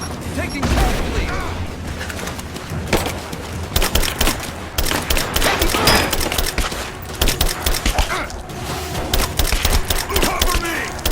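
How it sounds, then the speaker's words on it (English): Soldiers fire rapidly in Rise of the Tomb Raider, loud close bursts of gunfire in irregular volleys mixed with booms and shouted voices. "Suppressing fire!"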